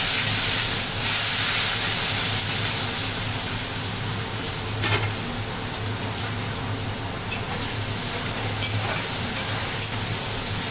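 Chopped onions fry in a pan for a home-cooked meat curry, giving a steady close sizzle and hiss. Occasional soft clicks and scrapes of stirring come through over the frying.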